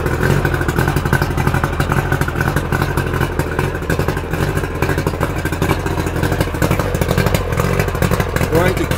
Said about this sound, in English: So the engine is now running.